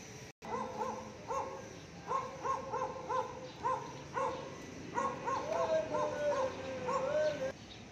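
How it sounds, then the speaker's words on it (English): Several dogs barking on a dark street at night in Balibago, Angeles City, a run of repeated, fairly close barks in rhythmic bursts with some whining yips toward the end. "I hope these dogs don't want to bite me."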